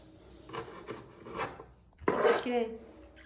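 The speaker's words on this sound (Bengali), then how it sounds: "আমি এই সবজি কাটছি খিচুড়ির" Vegetables being cut for khichuri in a home kitchen, a few knife strokes with scraping and rubbing on a board, close and moderately loud, with a louder burst of handling near the end and some background voices.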